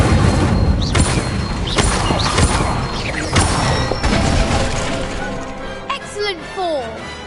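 Wand spells in a Harry Potter video game crackle and boom one after another in a busy burst of magical blasts, whooshes and impacts, with a voice calling out the incantations over them.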